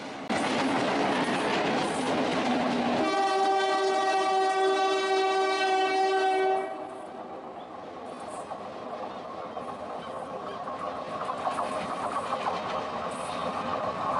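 A long, loud train horn blares for several seconds over the deep rumble of a running Bangladeshi locomotive, which continues steadily once the horn stops.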